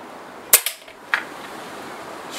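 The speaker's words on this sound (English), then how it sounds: "Shooting a tad high because I hit the fish above it." A vintage Webley 1925 MK1 .22 air pistol fires a single sharp crack at about a 12-yard outdoor range, followed a moment later by a fainter impact click on the target, with quiet background hiss.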